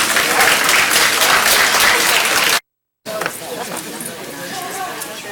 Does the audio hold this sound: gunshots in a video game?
no